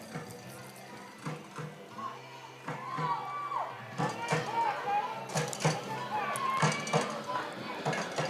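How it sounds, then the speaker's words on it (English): The Silo fans at a Perry fastpitch softball game make noise from the stands with scattered shouts, cheers and claps that build in the second half, under a play-by-play voice. "Silo crowd trying to make some noise down the way"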